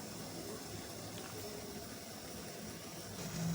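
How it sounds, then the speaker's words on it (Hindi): Water boiling in a pot on the stove as the base for sugar syrup for semolina gulab jamun, a steady, faint rolling bubble and hiss heard alone and without pause. "अब ये पानी जो है वो बॉयल हो रहा है।"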